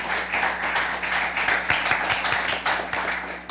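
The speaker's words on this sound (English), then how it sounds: "You're allowed to clap, yes indeed." An audience at a junior school science quiz in Antigua and Barbuda claps in a brief, steady burst of applause lasting a few seconds.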